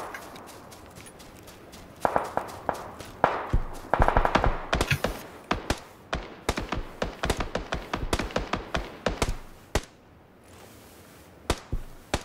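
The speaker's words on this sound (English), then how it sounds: "he's shooting someone. Oh, they're fighting each other." Gunfire in PUBG, a battle royale shooter, rings out in rapid bursts of sharp cracks and single shots with uneven spacing and a few brief pauses, loud and close throughout.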